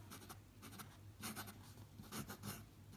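A Gama Supreme fountain pen with a fine steel nib scratches across paper in quick, faint strokes, coming in short bursts with brief pauses. The sound is close and quiet, and no one speaks.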